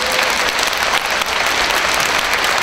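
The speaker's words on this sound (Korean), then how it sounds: "좋은 강좌해 주신 강사님께 다시 한번 힘찬 박수를 부탁드리겠습니다" Applause for a math lecturer after a talk to exam students, steady, dense clapping from a seated audience, loud and even through the whole burst.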